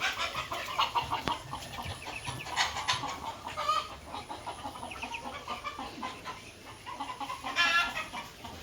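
Chickens clucking in a farmyard: repeated close clucks and short calls in irregular bursts over a steady background, with no talk.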